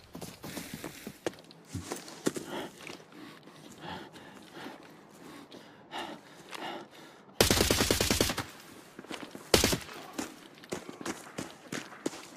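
Rapid bursts of gunfire in the video game Arena Breakout Infinite, with sharp single shots and a long automatic volley, mixed with running footsteps and mechanical clicks.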